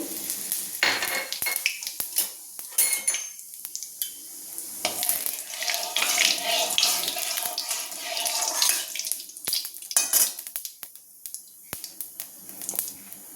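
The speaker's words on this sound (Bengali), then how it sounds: "তেল গরম হয়ে গেছে, এবার আমি দিয়ে দেবো শুকনো লঙ্কা ফোড়ন, তার সঙ্গে দিয়ে দেবো একটু জিরে" Dried red chillies and cumin seeds are tipped into hot mustard oil while cooking fig curry. A steady crackling sizzle runs throughout with clinks of a utensil against the pan, and no one speaks.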